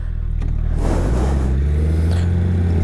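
A 2021 Suzuki Hayabusa motorcycle with an upgraded engine rumbles and then revs, the low growl swelling loudly and staying close and strong to the end.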